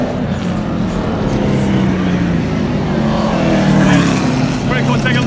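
Stock race cars running laps at Evergreen Speedway, a loud continuous engine roar with rising and falling pitch as cars pass, with people talking over it.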